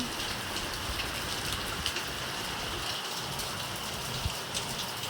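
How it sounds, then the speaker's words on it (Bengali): Heavy monsoon-style downpour in a steady, dense hiss with occasional louder drops, constant throughout. "এখন সকাল থেকেই এমন মুসলধারায় বৃষ্টি"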